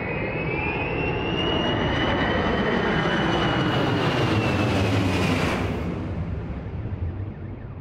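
A loud jet airplane roars overhead at close range, its engine whine sweeping and swelling before the noise tapers off as it passes.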